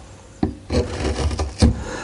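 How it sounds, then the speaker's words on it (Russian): A wide chisel carving a wooden gingerbread mold makes a few short scraping and rubbing strokes against the wood, close and fairly loud, with brief pauses between cuts. "После этого можно почистить вот эту часть более широкой стамеской,"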